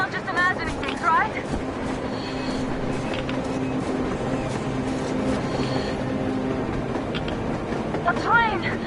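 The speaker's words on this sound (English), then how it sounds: "A train! A damn train on the surface!" In the Metro Exodus video game, a train rumbles across the snowy surface in a blizzard, a continuous heavy rolling drone with metallic squeals, while voices talk over it.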